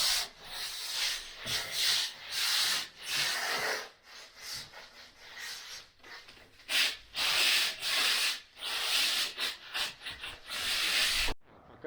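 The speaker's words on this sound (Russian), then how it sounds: "А я ничего, я шкурю." Abrasive sanding of filler on a ceiling during plastering work, a steady rasping scrape in repeated back-and-forth strokes with brief pauses, fairly close and continuous throughout.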